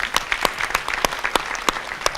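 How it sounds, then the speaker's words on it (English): An audience at a business competition fireside chat breaks into brisk, close applause, with sharp individual claps standing out in an uneven rhythm across a couple of seconds. "A round of applause, please, everybody."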